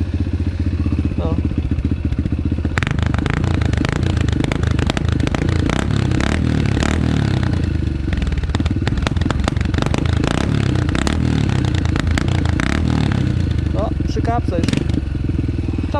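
Yamaha TTR 125 motorcycle engine running loud and close for the whole stretch, a steady rough drone with clattering bursts and revs in the middle, under occasional talk.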